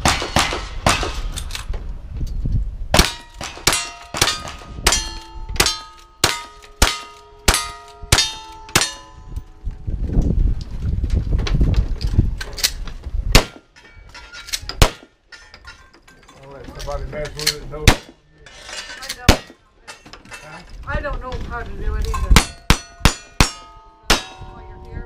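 Gunshots ringing off steel targets at a shooting match, a long series of sharp bangs each followed by a metallic clang, fired in quick strings with short pauses, and voices heard between strings.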